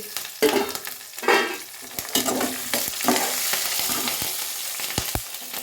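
Green and dried chillies sizzle and crackle in hot oil in a pan, a steady close frying hiss broken by a few louder spits and bursts of stirring, with no talking.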